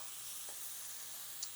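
Food sizzling gently in a frying pan while sweet potatoes with pumpkin spice bacon are cooked, a faint, steady hiss with a small crackle near the end.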